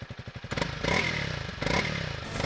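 Honda CRF 300L motorcycle heard up close, beginning with a rapid thumping idle pulse, then revving up into a loud, rough engine roar with clattering mechanical texture.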